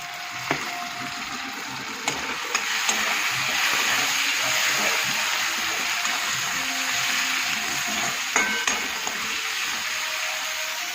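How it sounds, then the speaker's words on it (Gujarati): Onions fry in a pan with tomatoes and masala, giving a steady close sizzle with occasional soft clinks and scrapes of a spoon throughout. "ડુંગળી શેકાય એટલે ટામેટાં અને મસાલો નાખીએ।"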